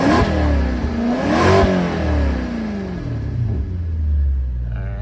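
A 2008 Maserati GranTurismo S V8 revs repeatedly, loud and close, its rising and falling engine note rumbling strongly in steady waves with no talking.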